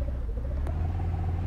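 A car drives steadily in the Roblox game Welcome to Bloxburg, billed as one of the fastest cars there, giving a constant low engine rumble with a brief higher blip partway through and no talking.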